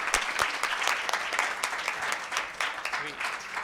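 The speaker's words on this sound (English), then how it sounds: "Can we have a big round of applause for everyone and everything?" An audience at a behavioural economics workshop breaks into steady, sustained applause, many hands clapping close and evenly throughout.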